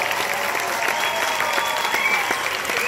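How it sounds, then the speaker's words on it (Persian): Audience applause at a live show, a dense, even wash of many people clapping at once that holds steady and fairly loud throughout. "تشویق کنیم دخترمون رو"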